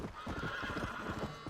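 Horse hooves clip-clop in a quick, even rhythm in Red Dead Redemption: Undead Nightmare, close and moderately loud over a short stretch, with no speech.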